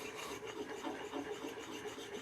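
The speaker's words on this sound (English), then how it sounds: "And I'm just polishing that edge up a little bit more." An axe edge is polished on a 10,000 grit waterstone, giving a steady, close, soft rasping rub with a rhythmic back-and-forth stroke.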